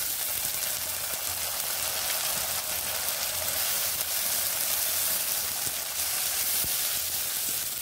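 Ginger paste and cumin paste go into a pan of fried onions with a little spice-rinsing water, giving a steady, dense, close sizzle that stays loud and even throughout, with no voices.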